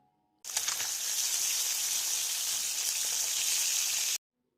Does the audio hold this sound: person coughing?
no